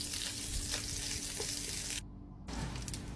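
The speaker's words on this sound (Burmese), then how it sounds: "ကြက်ရေကုန်ကနေပြီးတော့စီထုတ်ပါမယ်ရှင် မီးအေးလေးနဲ့စီထွက်လာအောင်ကြော်ပေးလိုက်ပါမယ်" Chicken fat renders in a pan over low heat for chicken fat rice, a steady bright sizzle that cuts out briefly and then resumes, with no talking.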